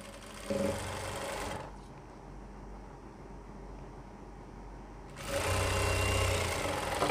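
A sewing machine stitches pant fabric in two bursts, a close, steady mechanical whir that runs, stops for a few seconds of quieter room noise, then starts again.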